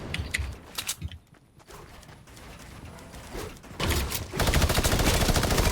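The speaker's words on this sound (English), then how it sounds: "Minigun spam on us." Minigun firing in Fortnite, with a dense rapid stream of shots that starts after a quieter stretch of scattered bursts and builds into a loud continuous barrage by the end.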